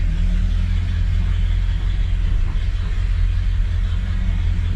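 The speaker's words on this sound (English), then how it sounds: "Back it out of here nice and slow." Restored highboy pickup truck with a quiet muffler backing slowly out of a shop, a steady, deep engine rumble at low speed, fairly loud and close, with no talk over it.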